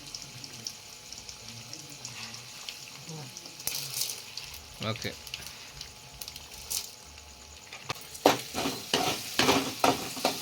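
Tempering seeds frying in oil with garlic and dried red chillies while making tomato chutney, a steady sizzle with stirring scrapes and a few louder clatters near the end, close and under brief talk.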